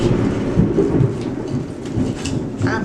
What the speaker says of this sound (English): I mean, it is storming.